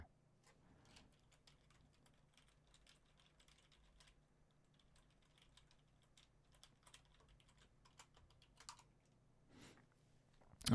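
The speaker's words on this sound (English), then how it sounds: "This has been a marathon of typing." Quiet typing on a computer keyboard while writing programming code, with irregular bursts of soft key clicks and brief pauses over a faint low hum, nearby and with no talk.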